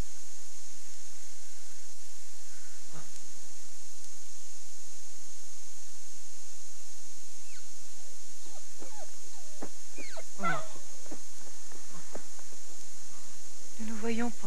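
Several dogs whimper and yip in short, high bursts, clustered near the end over a steady hiss, with a voice speaking at the same time.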